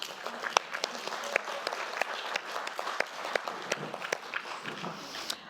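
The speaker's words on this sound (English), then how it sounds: "Well, you can give him a clap." Audience applause at a city council ordinary meeting, a steady spread of hand claps with sharp individual claps standing out, moderately loud and continuous for several seconds.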